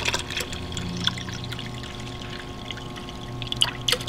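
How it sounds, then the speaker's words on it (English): Hot tub filter cleaner, 16 ounces, poured into a bucket of water, a steady close liquid pour and trickle running throughout with a few brief splashy spikes near the end. "pour 16 ounces of filter clean into the bucket."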